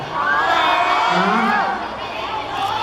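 A concert crowd at a Samsung event in Phuket screams and cheers loudly in high-pitched shrieks that swell and stay dense for a couple of seconds, then ease slightly before rising again.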